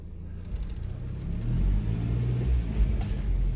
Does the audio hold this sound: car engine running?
yes